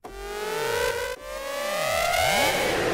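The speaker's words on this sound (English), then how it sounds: "the cyber siren." A synthesized cyber siren patch in the Serum synth wails continuously with sweeping, looping pitch glides and a layered electronic tone, loud and close throughout with a brief dip midway.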